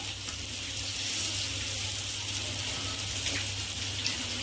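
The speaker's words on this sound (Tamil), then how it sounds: "நான் கொஞ்சமாக தண்ணி ஊற்றிக்கிறேன்" A little water is poured into meat curry cooking in a pan, making a steady, soft hissing and sizzling that continues throughout.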